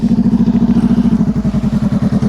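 A motorcycle engine given too much throttle during slow-speed riding practice, a loud, close, steady rapid throbbing that holds throughout.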